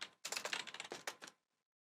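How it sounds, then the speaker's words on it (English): Rapid keystrokes on a computer keyboard while names are entered for a mystery bundle list, a dense irregular burst of close clicks that stops abruptly, with no voice. "I guess I can stop typing that and just have the names"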